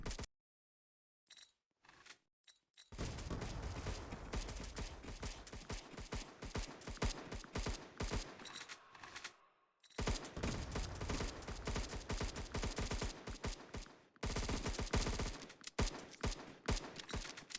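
Roblox Marine AI soldiers keep up rapid, sustained gunfire in long dense bursts, broken by short pauses, sitting fairly low in level with no talk.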